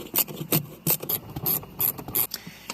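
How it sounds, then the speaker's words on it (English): Honda bolts are tightened on a 2011 Honda CR-Z center armrest bracket, producing a series of short, sharp ratcheting rasps in an irregular rhythm, close and fairly loud, with no voices. "Once you've got the bolts tightened all the way down"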